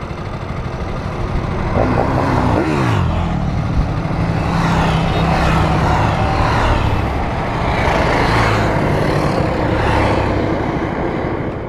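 A group of KTM motorcycles rides past at a demo day, engines loud and close, with repeated swells as the bikes go by one after another in a steady roar.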